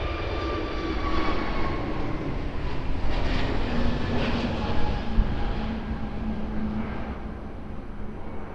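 Airliner on final approach to runway 02 at Lisbon Airport, a steady droning engine roar with whining tones, moderately loud and sustained throughout, with no talking.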